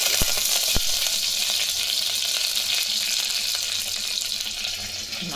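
Curry leaves, a dried red chilli and mustard seeds sizzle in hot oil for rasam, a steady bright crackling hiss with a couple of sharp pops near the start, close and continuous, with no talking.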